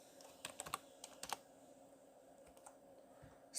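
Someone typing on a computer keyboard while entering values into an Excel spreadsheet, producing quiet, close, irregular clicks in short bursts with pauses between them.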